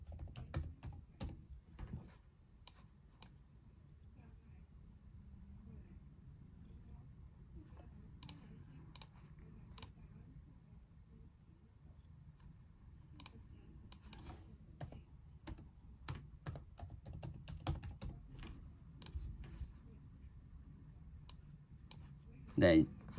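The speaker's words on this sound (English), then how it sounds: "Type the password." Password typed on a computer keyboard: light, scattered key clicks at close range, fairly soft and irregular over a low background hum, with a louder burst of clicks near the end.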